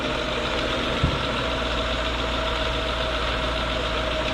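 A 2013 Hyundai Equus with a 5.0L GDI V8 idles at a steady, even drone, heard close up, with one brief knock near the start and no voices.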